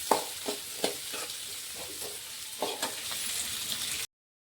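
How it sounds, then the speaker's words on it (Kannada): Onions frying in a pan, a soft steady sizzle broken by several brief stirring scrapes, close and quiet, no talking, ending abruptly in silence. "ಇಲ್ಲಿ ನಾನು ಒಂದು ಸ್ವಲ್ಪ ಫ್ರೈ ಮಾಡ್ಕೊಂಡಿನಿ ಈರುಳ್ಳಿ"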